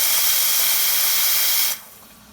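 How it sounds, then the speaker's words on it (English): Steam wand on a Nuova Simonelli MAC 2000 V espresso machine gives a loud, steady broadband hiss that runs close and unbroken for nearly two seconds, then cuts off abruptly into quiet room tone. "I'm going to turn the machine on at the steam wand"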